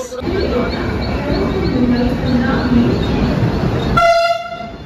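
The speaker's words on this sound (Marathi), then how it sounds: "चला, आपली ट्रेन आली 22223 वंदे भारत" Vande Bharat train 22223 pulls into platform 5 at Thane station, a loud rolling rumble with rhythmic wheel clicks, ending in a sharp, tonal horn blast in the final second.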